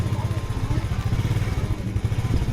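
A motorcycle rumbles close by on a flooded, rain-soaked street, its engine a steady low throbbing putter that runs continuously at a moderate level.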